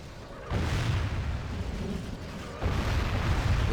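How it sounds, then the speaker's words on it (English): Artillery fire in a Total War Warhammer battle, Khorne campaign siege: heavy booming blasts rolling in, one big burst around the half-second mark and another near two and a half seconds, with rumbling battle noise between. "Let their fucking artillery shoot."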